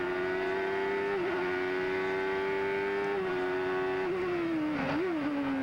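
A 1991 CART Indy race car at Laguna Seca holds a loud, sustained high-pitched engine drone, broken by several brief pitch dips and blips as it changes gears.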